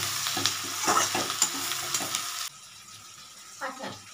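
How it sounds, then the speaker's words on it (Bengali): A pan of tangra fish curry is stirred, a loud wet sizzle with scraping strokes for about half the clip before it drops to quieter scattered stirring and clinks. "ব্যাস, এবার আমি একটু নাড়ি।"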